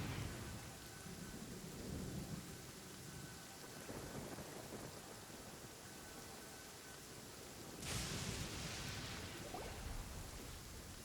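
Steady rain and rolling thunder in the video game Genshin Impact fill the scene with a constant wash, and a louder crack of thunder breaks in near the end; no one talks.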